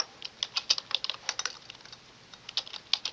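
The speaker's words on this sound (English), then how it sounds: "I will type it just in case." Quick, irregular keystrokes on a computer keyboard, close and fairly soft, with short pauses between bursts and no talking.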